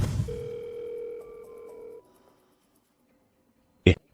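A telephone line tone sounds while a call is being placed, a steady electronic tone lasting about two seconds followed by silence and a short sharp click or knock near the end.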